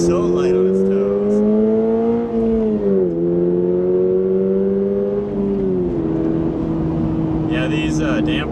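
A 2025 Toyota GR86 Hakone on track, its engine and exhaust holding a steady, loud drone whose pitch climbs, dips sharply around shifts and settles again, with brief higher rasps near the end.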